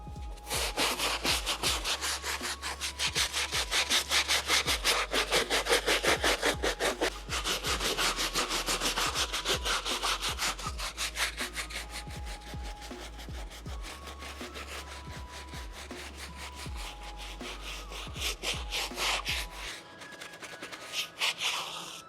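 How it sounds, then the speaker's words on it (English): A medium bristle brush scrubbing a sneaker's midsole, with fast rhythmic back-and-forth strokes that run steadily and close-up for about twenty seconds under a low background hum. "move over to the medium bristle. Hit the midsole up."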